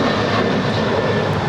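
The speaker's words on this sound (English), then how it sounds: "That was United 1069 departing to Chicago. It's a 7-year-old 737-900ER." A seven-year-old United Boeing 737-900ER departs LAX for Chicago, its jet engines producing a loud, close, continuous broadband roar that fills the short stretch without any talk.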